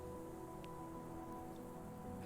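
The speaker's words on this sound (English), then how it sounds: "There's the rain." Steady rain falling across a river valley in the restoration game Terra Nil, a continuous soft hiss of drops on surfaces with a faint background music tone running underneath.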